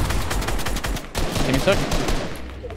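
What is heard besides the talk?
gunshots from a video game (Fortnite)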